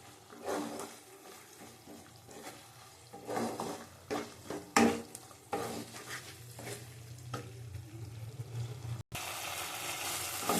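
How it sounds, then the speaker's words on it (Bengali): Masala for aloo dum sautéed in a pan makes a low sizzle under repeated spoon scrapes and clinks against the metal, stirred steadily and heard up close without speech. "এটা ভালো করে কষি নিতে হবে আবার"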